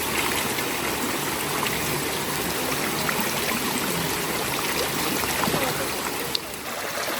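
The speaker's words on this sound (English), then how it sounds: "it's all over a small stream here. And this is actually the melted ice from the Alps, and it goes to the lake Gosausee" A small stream of cold Alpine meltwater near Gosausee in Austria flows steadily and close by, a continuous bright trickling rush with no pauses.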